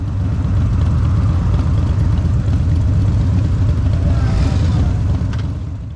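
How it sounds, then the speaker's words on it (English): Orange Harley-Davidson Street Glide motorcycle passing on a road, a steady loud low engine rumble with traffic noise that holds throughout and fades slightly at the end. "This time it's Mike on the orange street glide. We should see him sail past pretty shortly."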